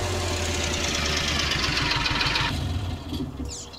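A John Deere Gator utility vehicle in Farming Simulator 19 idles with a steady, rumbling engine drone and knocking pulse, then the engine note drops away near the end as it is parked.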